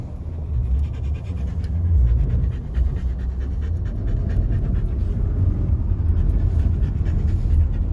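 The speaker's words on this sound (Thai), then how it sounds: "ฮันเตอร์หายใจแรงเพราะว่าเขาร้อนนะคะ ในรถเราเปิดฮีทอย่างแรงเลยค่ะ" A dog pants hard and steadily inside a car with the heater running high during a −35 °C cold spell in Calgary, the rapid breaths close and continuous over a low engine and cabin rumble.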